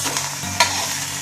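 Breakfast frying in a pan over a low to medium flame as it is turned onto its other side: a steady sizzle with one sharp clatter of the flip midway through.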